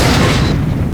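One loud, booming gunshot goes off in the Unreal multiplayer map DM-Twilight, fired at a trap button, with a heavy blast that decays over a second.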